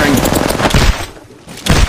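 Gunfire in the mobile shooter Apex Legends Mobile, loud rapid bursts of shots in the first half, a short lull, then more shots resuming, with game voice lines mixed in.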